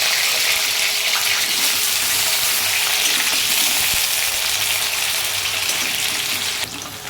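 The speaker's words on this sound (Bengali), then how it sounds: "এবার আমি আলুগুলো দিয়ে দিলাম।" Potatoes frying in hot mustard oil, a loud, continuous hiss and sizzle close by that stays steady for several seconds before easing slightly at the end, with no speech.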